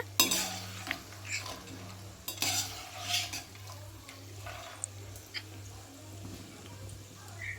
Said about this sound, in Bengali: নিমকিগুলো প্রায় ভাজা হয়ে গেছে এবার দেখো আমি তুলে নেব একটা প্লেটে